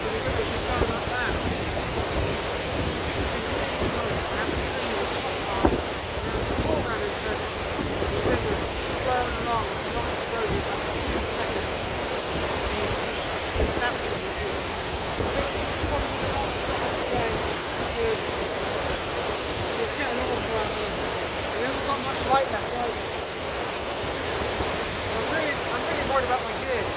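Rushing river beside waterfalls in autumn torrential rain, a dense, steady roar of water with wind buffeting the microphone, continuous and close, with faint talk now and then.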